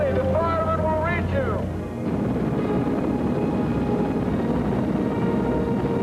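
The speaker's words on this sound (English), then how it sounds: "the helicopters also created a great deal of confusion, noise, and blowing debris" Helicopters hovering over the 1980 MGM Grand Hotel fire rescue in Las Vegas make a steady, heavy rotor roar that fills the scene, while a voice speaks over it at the start.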